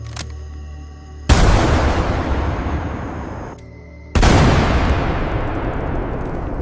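Mortar shells fire at a sniper's position in two heavy booming blasts a few seconds apart, each followed by a long, loud rumbling decay, with no voices.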